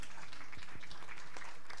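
Steady applause from the crowd at a women's 10m air rifle final fills the whole moment, a dense wash of clapping at even loudness.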